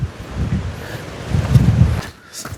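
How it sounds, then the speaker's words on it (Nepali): Cold wind gusting on a forested mountain hiking trail to Chauki Dada in Nepal, a close buffeting rush against the microphone that swells and fades over a few seconds. "हावा मिठो चल्दा कस्तो डेन्जर भएर हावा हो"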